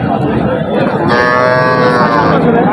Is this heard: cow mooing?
yes